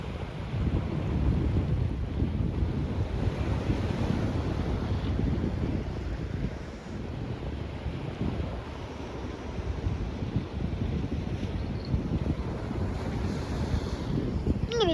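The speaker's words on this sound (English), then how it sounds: "high tide, guys, doesn't really have big waves as much" Ocean waves wash ashore at high tide on the beach at Avon-by-the-Sea, a continuous rushing surf roar mixed with heavy wind buffeting the microphone, steady and loud with no talking.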